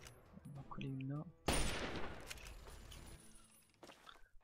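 A Lincoln rifle shot in Fallout 3 cracks out loud and near, a single sharp report with a short decaying tail. Before it a voice speaks briefly, and a faint clink follows later.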